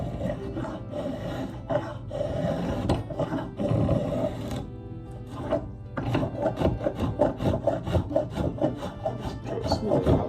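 A rasp files along a wooden hatchet handle, smoothing the grip with steady back-and-forth rubbing strokes, close and fairly loud, briefly pausing before resuming in a quicker rhythm.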